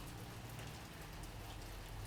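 Rain pours steadily in the video game Death Stranding 2, a dense, loud, continuous hiss without pauses or voices.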